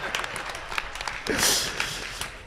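Scattered clapping from a small audience at a Hindi-language gathering, uneven and moderately close, swelling briefly in the middle before thinning out.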